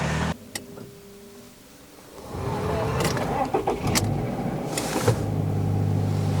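Subaru XV with automatic gearbox starting up: a quiet cabin, then the engine cranks and catches around two seconds in, settling into a steady idle with a few clicks and knocks, heard from inside the car.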